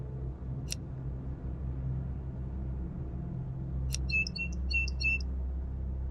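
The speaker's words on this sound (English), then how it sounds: "Shut up, bird." Birds chirp in the horror video game April 86, with one sharp tweet early and another followed by a quick burst of twittering calls later, all over a steady low ambient rumble with no talk.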